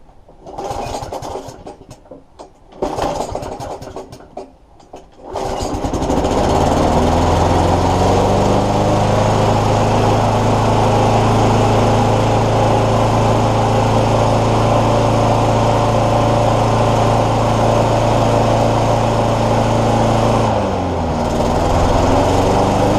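A Honda GV100 lawnmower engine is pulled over with a few rough recoil-start bursts, then catches and runs at a loud, steady, buzzing drone for about fifteen seconds. The note dips briefly near the end before settling again.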